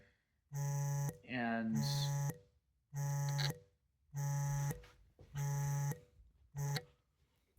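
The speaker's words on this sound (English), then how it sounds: "that was my alarm going off" An alarm going off in a room where someone practices Chopin piano, a steady electronic beep repeating about every second in six even pulses, with a short spoken word overlapping one beep.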